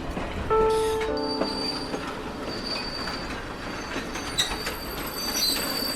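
A train runs along the tracks with squealing wheels and rhythmic clatter, a few shrill metallic tones rising at the start over a steady rolling rumble, fairly faint and without voices.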